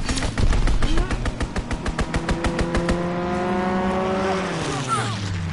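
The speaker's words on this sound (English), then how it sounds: "Enemy strafing run, inbound!" An enemy aircraft strafing run in a video game, a rapid, loud burst of regularly spaced gunshots for about three seconds under a roaring engine, then the plane's whine sweeping away while a voice speaks.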